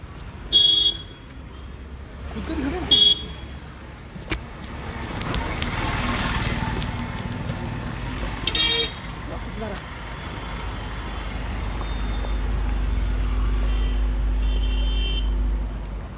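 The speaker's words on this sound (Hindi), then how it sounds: "ये गाड़ी जो जा रही है" A car pulls away from outside a CBI office amid street traffic, with engine rumble, several short horn toots and passing vehicles in the background, while someone talks over it.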